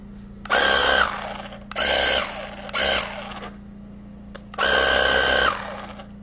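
A work sprayer used for carpet cleaning gives four loud, close bursts of hissing spray, each lasting about half a second to a second, separated by short quiet gaps over a steady background hum.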